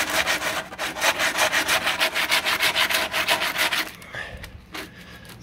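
40-grit sandpaper scrapes in quick, even back-and-forth strokes over body filler on a 1969 Corvette C3, loud and close at first, then slowing into a few sparser rubs.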